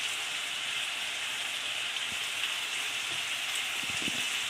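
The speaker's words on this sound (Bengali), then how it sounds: "এইভাবে ঢেকে ঢেকে মশলাটা পুরো ইঁচড়টা কষিয়ে নেব।" Young jackfruit and spices frying in a covered pan for a Bengali dish, giving a steady, even sizzle throughout with a few faint soft knocks near the end.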